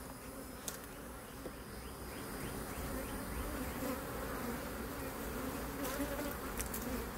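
Honeybees buzz around an open hive during an inspection, a dense, steady swarm hum close by that swells slightly louder partway through, with a few brief clicks of handling and no talking.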